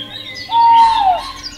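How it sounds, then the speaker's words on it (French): A small bird in an animated film gives one brief, clear whistled call that slides downward at the end, standing out against a faint musical background. "Oh, cet oiseau est mignon."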